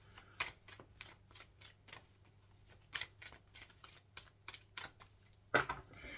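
Wisdom of the Oracle cards are shuffled by hand, a string of soft, quick riffling and tapping bursts at irregular intervals, faint and close.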